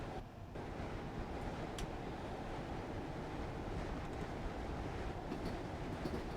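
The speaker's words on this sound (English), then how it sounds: "That's a train coming towards me." A train approaches head-on on a rail line in a driving simulator game, a steady, faint broadband rumble and rush of wheels and wind that holds constant throughout, with no speech.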